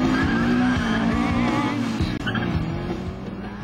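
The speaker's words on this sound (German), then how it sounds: "Die Freude auf den Tracktest zeigt der Kavalierstart." A BMW 1600ti makes a jackrabbit start, its engine roaring loud and close while the tires squeal in a long rising screech, the revving easing slightly toward the end.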